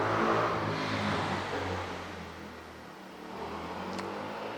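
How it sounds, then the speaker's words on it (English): A motorbike engine passes in the background, a moderate droning whine that swells, fades and rises again over a few seconds without speech. "we've got an annoying bike in the background"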